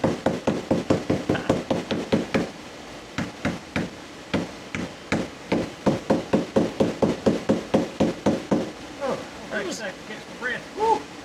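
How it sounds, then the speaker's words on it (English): A dead blow hammer knocks a keel guard onto a boat hull in a fast, steady run of close, loud thuds, pausing briefly before resuming, with voices talking near the end. "The other is taking a dead blow hammer to it."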